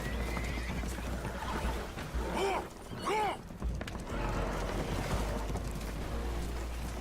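Horses whinny twice in quick succession, loud and close, over a constant rumble of water and wind, in the video game Red Dead Redemption 2, aboard a boat taking on water.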